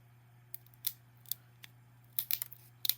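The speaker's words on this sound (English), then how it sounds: "You need to take your tonic scissors" Several crisp scissor snips cutting through cured resin, scattered then quickening into a short cluster near the end, close and fairly quiet over a faint steady hum.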